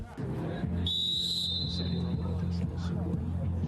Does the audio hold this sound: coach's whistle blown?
yes